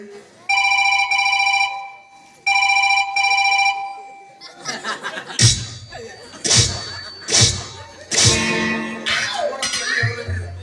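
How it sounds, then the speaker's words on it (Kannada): A telephone bell rings in two loud bursts near the start, then stops as several people start talking and chuckling. "ಯಾಕೋ ಫೋನ್ ಬರತ್ತಡಿ"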